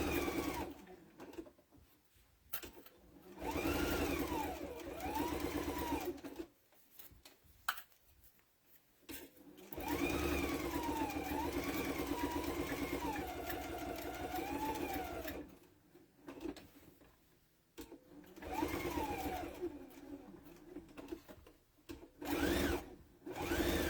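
A sewing machine stitches all the way around the fabric of an Easter basket, running in steady whirring bursts of several seconds with short pauses between them, close and clear.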